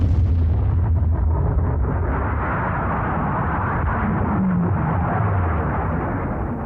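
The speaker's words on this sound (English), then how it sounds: "The USSR detonated their first nuclear bomb." The first Soviet nuclear bomb detonation, August 1949, comes through as a loud, continuous, deep roaring rumble that fills the whole stretch without pause.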